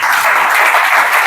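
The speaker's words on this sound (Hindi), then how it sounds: "बच्चे के लिए ताली बजाएं।" Church congregation at a Good Friday service applauding for a child, a dense steady burst of many hands clapping, loud and close, brief with no voices over it.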